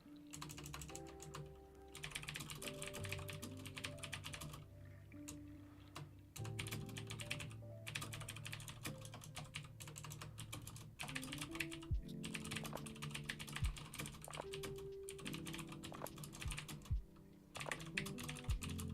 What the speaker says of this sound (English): I am just typing goodbye.